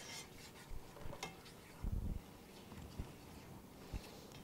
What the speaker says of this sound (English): So I'm gonna whisk.